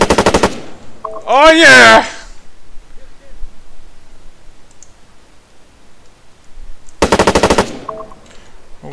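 Video game machine gun fire rattles in two short rapid bursts at the start and near the end, loud and close, with an excited voice calling out in between.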